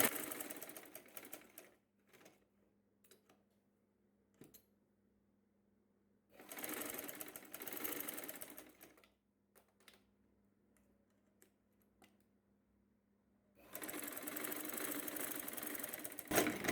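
A sewing machine stitching a bra-cut saree blouse, running in three bursts of steady rapid whirring separated by quiet pauses with faint clicks and handling noises.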